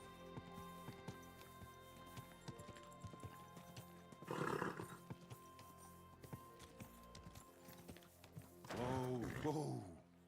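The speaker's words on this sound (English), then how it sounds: "Easy, good horse." Horse in Kingdom Come: Deliverance II whinnying twice, a short neigh midway and a louder, longer one near the end, over soft clip-clopping hooves and a low game ambience, with speech in the scene.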